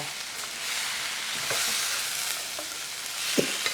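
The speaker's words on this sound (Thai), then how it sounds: "แล้วเราก็คั่วไป" Vegetables stir-fried in a hot pan for a northern Thai dish give a steady, loud sizzle, with occasional scrapes and knocks of a spatula stirring through it and no talking.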